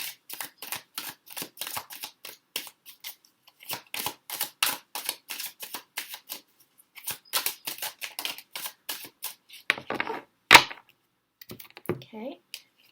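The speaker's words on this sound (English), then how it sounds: "so I'm just going to shuffle." Rapid bursts of flicking and riffling tarot cards, repeated in quick clusters, close and crisp, with a short stretch of talking near the end.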